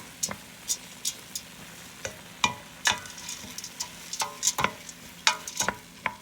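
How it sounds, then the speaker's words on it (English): A spoon stirs bay leaf and farro into softened vegetables in a pot, giving a run of quick, irregular scrapes and clinks over a faint sizzle, close and moderately quiet with no talking. "So I'm going to add in the bay leaf and farro. Give that a stir."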